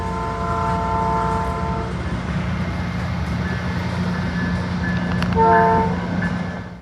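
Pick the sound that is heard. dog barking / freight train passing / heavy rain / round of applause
freight train passing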